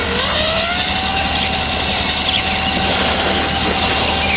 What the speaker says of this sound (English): I'm going to slowly raise the throttle.